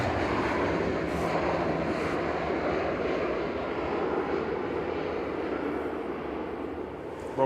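An Aer Lingus Airbus A320 on flight 208 from Dublin lands at Manchester Airport, giving a steady, loud broadband engine roar that holds evenly throughout with no talk.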